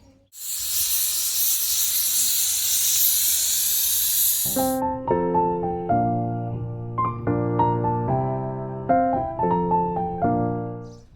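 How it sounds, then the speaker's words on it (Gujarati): A pressure cooker cooking Girnari khichdi lets out a loud, sustained steam whistle for about four seconds, which then stops abruptly and gives way to a sequence of clear melodic tones. "કુકરની 3 સીટી થઈ ગઈ છે."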